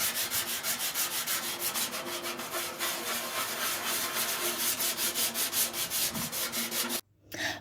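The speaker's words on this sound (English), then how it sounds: "some really tough sandpaper called emery cloth" Rough emery cloth rubs rust off the steel gas tank of a Yamaha SR500 in quick, steady back-and-forth strokes, close and loud, then stops abruptly near the end before a short final rub.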